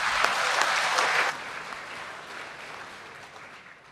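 Applause for Professor Dr. Erik Haryets at an Indonesian human rights minister's inauguration event, a full crowd clapping loudly for just over a second, then thinning to softer, scattered clapping that lingers to the end.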